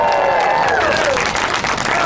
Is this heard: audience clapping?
yes